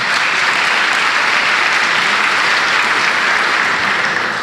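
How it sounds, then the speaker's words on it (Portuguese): A church congregation at a family service applauds the mothers, a dense, steady wash of clapping that holds at full volume throughout, loud and close, with no voices on top. "Eu queria mais uma vez uma salva de palmas a todas as mães"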